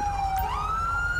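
Police car siren in GTA V with the LSPDFR mod, a loud close wail gliding from a lower pitch up to a higher sustained tone over steady road rumble, with no talking.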